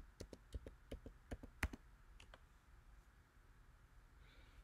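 A password is typed on a computer keyboard in a quiet room, a quick run of close, crisp key taps followed by a pause and a couple of final clicks.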